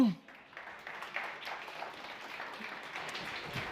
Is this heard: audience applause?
yes